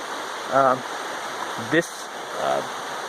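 Steady broadband rush of a flowing creek runs throughout, with a few short voiced sounds breaking in over it.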